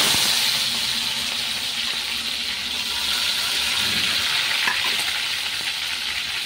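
Ginger and green chilli sizzle steadily in hot tempering oil for a vegetarian curry, a dense, even frying hiss that stays loud from start to finish with no talk.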